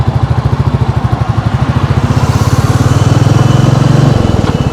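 Royal Enfield Classic 350 motorcycle riding at night, its single-cylinder engine thumping loud and close in a steady rapid beat, pitch rising slightly as it pulls away.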